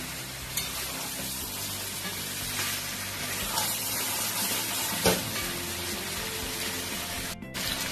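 Chicken sizzles and fries steadily in a pan with spices, a dense continuous crackle at moderate level with an occasional stirring scrape, no voices.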